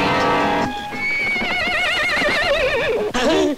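A horse in a Hindi devotional movie gives a loud, long, wavering whinny, then a second shorter neigh, with faint hoof clip-clop underneath.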